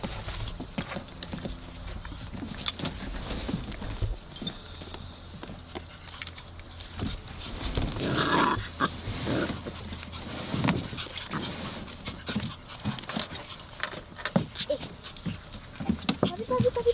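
Labrador puppies romp and pant on a new playground, with scuffling, jingling tags and soft breathy panting close by while people chat in the background.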